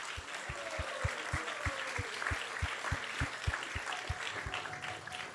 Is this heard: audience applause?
yes